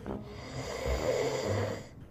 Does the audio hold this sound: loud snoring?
yes